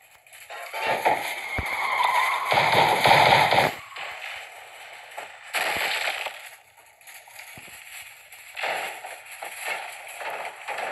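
Cannon fire in the Clash of Cars video game, several loud, booming bursts with noisy crackling tails, separated by quieter stretches of game sound.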